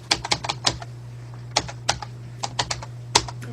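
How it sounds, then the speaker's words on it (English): Fingers tap out a web address on a computer keyboard in quick irregular bursts of crisp clicks with short pauses, close and clear over a steady low electrical hum, no talking. "So let me just type this in the here."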